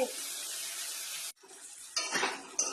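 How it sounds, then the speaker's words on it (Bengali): Onions sizzling and frying in a pan for a pointed gourd dish, a steady hissing crackle that briefly drops out, then resumes with stirring and scraping sounds. "এবার এটাকে লাল লাল করে ভেজে নিতে হবে"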